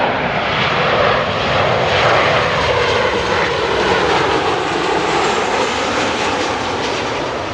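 A jet airliner touching down at Amsterdam Airport, a loud, steady roar of engines and rushing air holding strong throughout, close and continuous with no voices.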